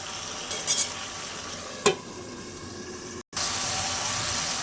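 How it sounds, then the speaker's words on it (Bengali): Mixed vegetables and mixed fish sizzle in a pan as they are stirred and cooked down. A steady frying hiss runs throughout, with a couple of brief spatula scrapes and clanks. "তরকারিটাকে একটু বেশি ভালোভাবে একটু কষিয়ে নিব"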